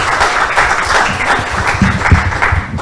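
Loud, close applause from a school debate audience, dense clapping with some voices mixed in, sustained for the whole stretch without a break.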